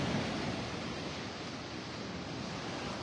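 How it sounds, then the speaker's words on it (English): Ocean surf rolls onto Vanderbilt Beach in North Naples, Florida, a continuous broadband wash of breaking waves, steady and fairly loud with a slight roughness of wind, no voices. "What do you think about that surf sound, the sound of those waves, the lullaby of Mother Ocean?"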